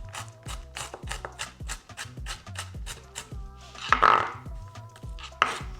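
Kitchen knife chopping onion into small pieces on a cutting board, a steady rapid series of close, crisp knife strikes with a brief louder clatter near the end.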